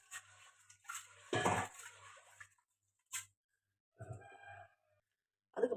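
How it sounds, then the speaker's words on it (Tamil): Lentils (dal) are swished and rinsed in water inside a metal pot in a kitchen, making a few short clanks and splashy scrapes with quiet pauses between them. "இனி இந்த பருப்பை கழுவிட்டு வந்துடலாம்."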